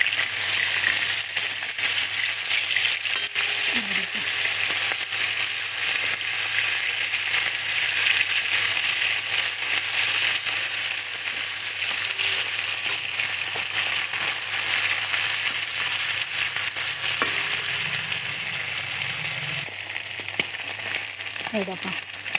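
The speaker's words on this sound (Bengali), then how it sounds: "এই দেখো মাছগুলো লাল লাল ভেজে নিয়েছি" Tilapia pieces, salted and turmeric-coated, frying in oil in a kadai, a continuous loud close sizzle with scattered pops and crackles and a few faint clinks and scrapes, no talking.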